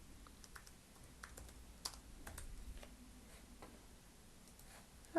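Quiet clicking of keys typed on a computer keyboard, a short irregular burst of taps with a few louder strokes, close and alone in a still room.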